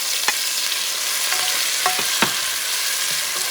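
Bison stew sizzles loudly in a hot pot as tomato sauce is stirred through it, a steady frying hiss broken by a few sharp scrapes and clicks of the spoon, close and alone with no voices.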